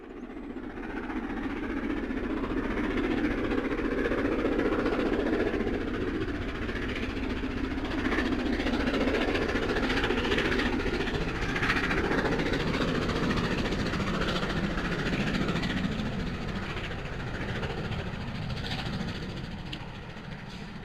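A steam locomotive runs steadily at speed, a dense rumbling roar with rhythmic clatter from the wheels, loud and close throughout with no talking.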